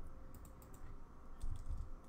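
Rapid, uneven clicking of keys on a computer keyboard, close and fairly quiet, with a busier burst of strokes near the end and no voices.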